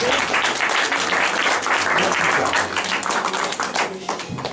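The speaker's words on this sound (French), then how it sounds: "je vous propose d'applaudir tous ceux qui ont participé à cette aventure" An audience at a community history event applauds the participants of a WWI neighbourhood project, with a strong, dense burst of clapping that gradually thins toward the end and a few individual claps standing out.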